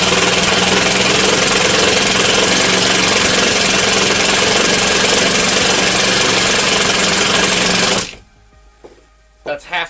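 Ryobi cordless drill with its impact mechanism engaged at half trigger, a loud, steady rattling hammer-and-motor buzz running continuously for about eight seconds before cutting off, followed by faint bench noises.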